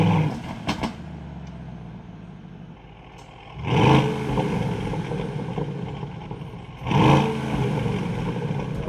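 2023 Aston Martin DBX707 with a 4-liter twin-turbo V8 pulling away on the road, the engine droning steadily and swelling in two strong surges as it accelerates, close and fairly loud.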